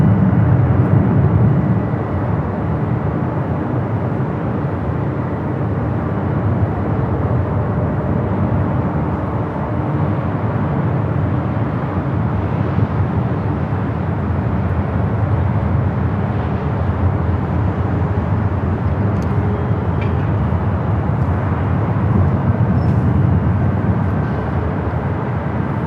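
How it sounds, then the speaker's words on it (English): Cathay Pacific airliner bound for Hong Kong taking off from runway 25 right at LAX, a loud sustained jet roar heard from the airport side, broad and steady across the whole stretch. "Cathay heading to Hong Kong, taking off 25 at right"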